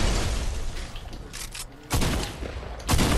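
Video game battle with a rocket hit and gunfire: dense, loud bursts of shots and blasts, with heavy impacts near the start, around two seconds and near three seconds, close and harsh.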